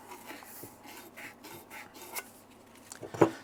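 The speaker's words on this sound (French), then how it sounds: "tu prends un petit bout de toile émerie, et puis on va venir nettoyer tout le bord intérieur" Emery cloth rubs around the inner edge of a Ducati 900 cylinder, making faint, close, rapid scratchy strokes with one sharper scrape at the end.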